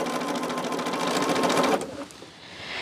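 A sewing machine stitches quilt pieces in main fabric at a steady, fast, close whir for nearly two seconds, then stops abruptly, leaving a quiet room.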